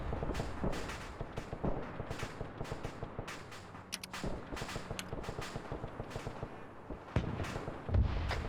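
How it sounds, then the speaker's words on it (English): A mounted gun firing in a Korean War video game rattles off rapid, uneven bursts of sharp shots, close and loud, with brief pauses between volleys and heavier booms toward the end. "I'm gonna get on this gun and start shooting."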